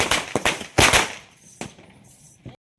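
Diwali firecrackers go off in a rapid string of sharp, loud bangs, several close blasts early on, then scattered single cracks with quieter gaps between them.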